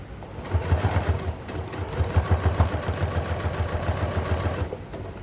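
A sewing machine stitches binding onto a hand-embroidered quilt, its needle pounding in a fast, steady mechanical rhythm that starts, runs close and loud for several seconds, then stops.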